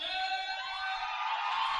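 A hockey arena crowd roars and yells in the closing minute of the third period of a college game, a dense, sustained wall of cheering and whooping heard from within the stands.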